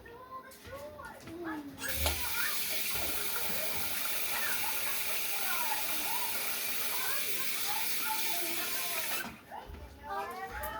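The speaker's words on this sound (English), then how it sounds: "Wash hands, and I'll probably have to do that a lot of times right now" Running tap water pours steadily under hand washing, a loud hissing gush that starts abruptly and stops near the end, while someone preps ground beef and hamburger patties in a kitchen.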